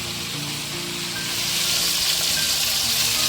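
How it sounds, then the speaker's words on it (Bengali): Bele fish frying in oil in a pan for a fish curry with eggplant, a continuous close hiss and sizzle that grows slightly louder partway through, no voices. "এটাও সেম পদ্ধতিতে আমি দু পিঠ ভেজে নেব"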